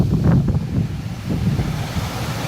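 Water from a mill pond rushes under a bridge with a steady, low churning roar, close and continuous, mixed with wind buffeting the microphone.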